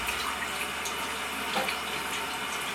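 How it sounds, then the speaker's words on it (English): Tap water runs steadily into a vessel to rinse freshly developed photographic film at home, making a continuous, even splashing hiss for the whole stretch with no talk. "We just let it rinse for about 15 or so minutes."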